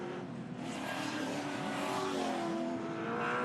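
Race car at Pukekohe spinning around on a very wet track during a race, a steady loud engine drone with shifting pitch and tire hiss running throughout.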